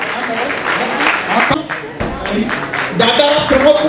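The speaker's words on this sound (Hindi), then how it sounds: "तालियों से अभिवादन करते रहिए।" A brief burst of clapping from the audience at a Kanpur student merit award ceremony, fairly loud and uneven, overlapping with someone speaking over a public address.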